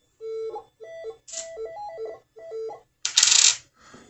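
A Minelab CTX3030 metal detector heard through DDT underwater headphones signals a coin with a quick run of stepped electronic beeps at varying pitch, then a loud burst of rustling noise, close and without talk.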